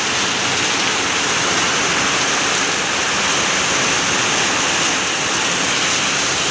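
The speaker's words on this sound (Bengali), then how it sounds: "ঝড় সাথে বৃষ্টি একসাথে হচ্ছে," Heavy rain pours during a storm, a dense, even roar of falling water that stays loud and unbroken throughout, with no voices.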